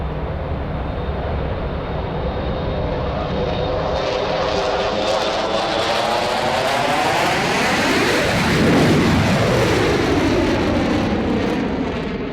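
A Hawker Siddeley Nimrod jet, developed from the de Havilland Comet, roars past at an airshow, its loud continuous engine noise sweeping in pitch as it approaches and recedes, with no voices.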